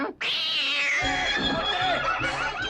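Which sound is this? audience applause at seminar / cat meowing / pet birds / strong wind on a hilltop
cat meowing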